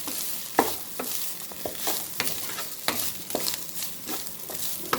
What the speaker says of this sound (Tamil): சாதம் போட்டு கிண்டிட வேண்டியது.